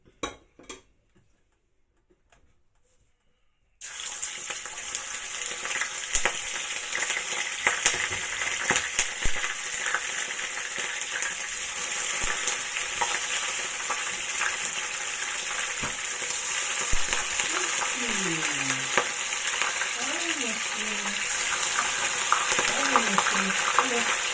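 Chicken and pork belly frying for Filipino adobo, a steady loud sizzle with occasional stirring scrapes after a few seconds of near silence, while someone talks briefly over it.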